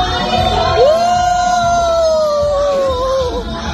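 A crowd at a workers and volunteers appreciation night shouts together in one loud sustained burst, with a rising whoop-like cry standing out above the mass of voices.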